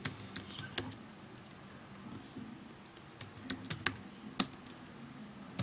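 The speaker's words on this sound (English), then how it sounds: "So we type wget" A command being typed on a computer keyboard: quick, light key clicks in an uneven rhythm with a few sharper taps, fairly quiet and close, with no voices.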